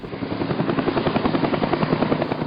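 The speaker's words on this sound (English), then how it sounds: "Helicopters. The blowing dust and the womp, womp, womp, womp, womp, womp." A helicopter's rotor thumps steadily in a rapid, even rhythm over a loud engine whine, close and continuous throughout.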